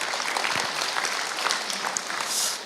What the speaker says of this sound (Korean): 박수 한번 보내주시겠어요?